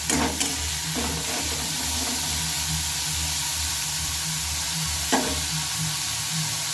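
Cauliflower frying in a pan with oil, being stirred, for a flour-coated cauliflower dish; a steady close sizzle carries throughout with a few sharp scrapes of the spatula, and no one speaks.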